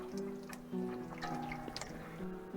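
Rouladen gravy thickened with cornstarch simmers in a pot, giving off soft bubbling pops and wet blips over a low steady kitchen hum, fairly quiet and close.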